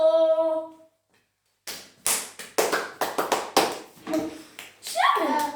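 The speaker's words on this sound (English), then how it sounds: "Clap for yourself." Schoolchildren in a classroom clapping for themselves, a few uneven bursts of sharp hand claps starting after a sung tone and brief silence, close and fairly loud, with a voice mixed in near the end.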